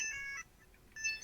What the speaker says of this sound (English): I told you the iconic iPhone ringtone.